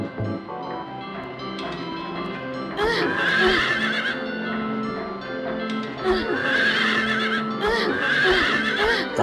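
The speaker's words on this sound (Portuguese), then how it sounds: "Tá fazendo barulho o cavalo" Carousel horse in Silent Hill 3's Lakeside amusement park neighing and whinnying in two loud bursts over a droning, eerie background.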